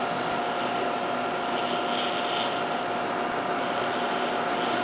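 A Hot Coat wheel coater machine runs with a loud, continuous whirring drone and steady broadband hiss, unchanging throughout with no voices.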